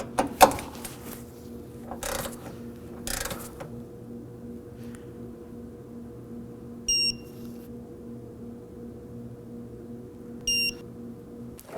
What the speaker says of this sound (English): And now we torque them down to 13 foot-pounds.